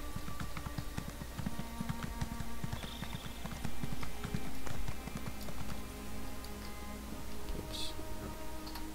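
Rhythmic clip-clop of horse hooves trotting along a road in the fantasy game Elder Scrolls Online, steady and close over a low ambient game backdrop.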